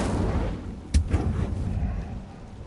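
A fire spell cast in the Hogwarts Legacy video game bursts out as a single sharp, loud whoosh-boom, a smaller echoing thud trailing right after it over a low, steady game rumble.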